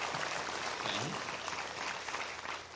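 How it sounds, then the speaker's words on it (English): A seminar audience applauding for a guest speaker, a dense, even wash of clapping that holds for a few seconds at moderate distance, with no voices over it. "let's give a round of applause for Dr. Shanlin."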